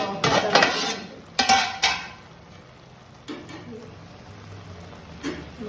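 A spoon stirs onions in a pan while fish is being cooked, making close scraping clatters in two bursts, then a low sizzle with a couple of light knocks.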